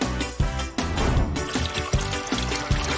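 Water poured onto seeded soil in a small planter, a close, bubbling gurgle broken by a few sharp pulses and splashes as the stream shifts, with no talk over it.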